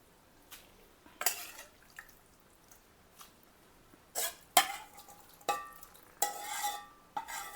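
Spicy Kolhapuri-style mutton kheema goes into fried masala in a pan, and a spoon stirs it in a series of sharp scraping and clattering strokes with faint sizzling between them, close and fairly quiet.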